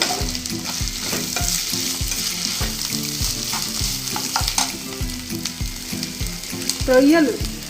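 Ginger-garlic paste sizzling steadily in hot oil in a pan for prawn curry, a continuous close crackle with rhythmic low knocks of stirring throughout.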